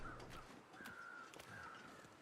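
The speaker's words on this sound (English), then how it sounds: "There's another set of crows off to my left somewhere." Crows caw in the snowy wilderness of the video game The Long Dark, a few drawn-out calls sounding at a distance over a steady windy hiss.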